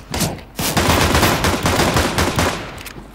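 Counter-Strike: Global Offensive match on an Italy map: loud, rapid bursts of automatic gunfire, near and sustained with shots overlapping almost throughout, and no talk.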